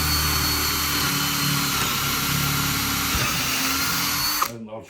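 A power drill whirs loudly and continuously, boring into the centre of cut wooden pieces for a fairground high striker ring-the-bell game, then stops abruptly near the end.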